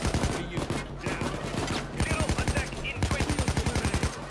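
Rapid automatic gunfire from the heist shooter Payday 2, dense bursts of shots hammering out nearly continuously and loud throughout, with brief gaps between volleys.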